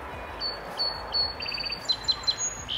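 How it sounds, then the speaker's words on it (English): Small bird chirping outdoors during engine coolant mixing, a series of short high tweets and trills repeating through the clip against soft background noise. "Yes, hello little bird, I hear you."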